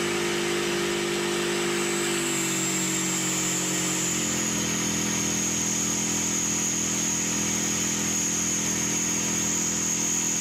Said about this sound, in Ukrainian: він має двохтактний дизельний двигун, його звук досить специфічний